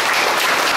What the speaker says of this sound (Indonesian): tepuk tangan dulu bagus sekali